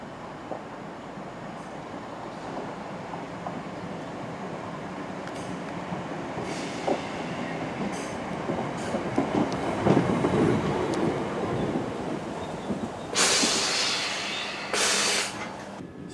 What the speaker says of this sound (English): So our train should be arriving now.